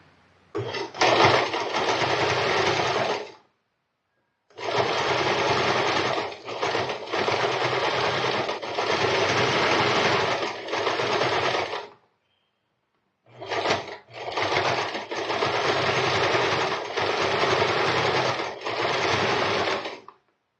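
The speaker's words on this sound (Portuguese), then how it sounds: "agora eu vou passar a costura bem aqui, olha" Sewing machine stitching along a towel, close and steady mechanical whirring in three long runs separated by short silent pauses.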